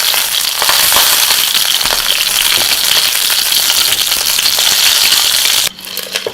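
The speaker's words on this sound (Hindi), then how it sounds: "बैगन को चारों तरफ से हम उलटते पलटते फ्राई कर लेते हैं।" Eggplant frying in hot oil and being turned on all sides, a loud dense crackling sizzle that runs steadily, then drops abruptly near the end.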